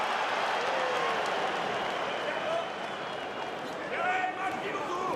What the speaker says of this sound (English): Listen to the Czech crowd now.